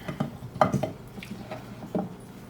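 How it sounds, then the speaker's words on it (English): Chopped onion, carrot, purple top turnip, fingerling potatoes and unpeeled scraped parsnips tumble into a pan, giving a few close, soft clattering knocks and scrapes of vegetables against metal over about two seconds. "And we're just going to put those all in the pan."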